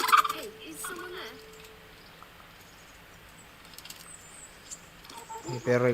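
Fowl gobble and cluck in a rural scene from the video game Kingdom Come: Deliverance, short bird calls near the start and again at the end over a quiet ambient bed, with a voice briefly audible.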